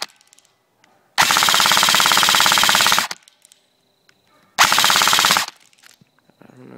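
An Ignite Black Ops M4 Viper blaster with a foregrip fires fast full-auto bursts at a tree outdoors, first a loud burst of about two seconds and then a shorter one of about a second, with quiet gaps between.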